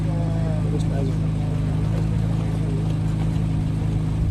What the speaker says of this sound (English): Those Corvettes, they are wickedly fast.